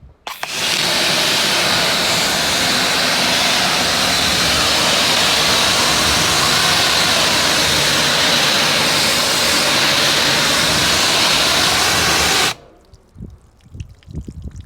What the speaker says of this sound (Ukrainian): ми спочатку збиваємо водою